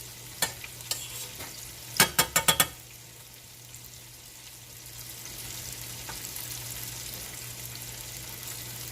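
Fried ribs cook in a pan beside melting butter, giving a steady low sizzle throughout, with a short burst of sharp clattering utensil taps near the start, no talking.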